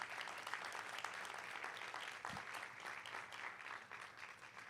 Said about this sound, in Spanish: Alguien le da un aplauso a la misericordia del Señor.